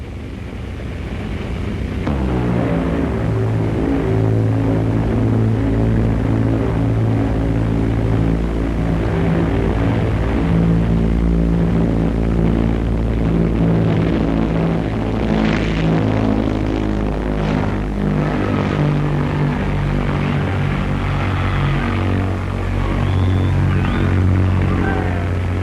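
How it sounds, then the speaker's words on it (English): The Bristol Brabazon, a huge 130-ton propeller airliner, takes off and flies low overhead at the Farnborough air show, its droning engines a loud, steady roar with layered tones that swell and shift as it passes. "Britain's biggest aviation achievement, Brabazon, took off from Bristol to fly to Farnborough."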